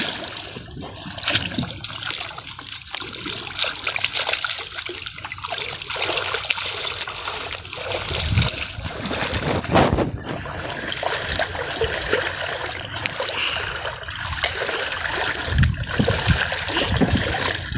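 Strong river current rushing steadily at a spot where a fishing trap is being set, a continuous close trickling and splashing wash with no voices.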